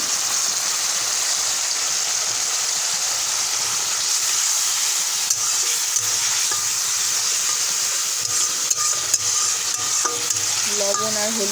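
Chicken seasoned with salt and turmeric sizzles loudly and steadily in a hot pan, with a dense continuous hiss. Faint scrapes of stirring come through near the end.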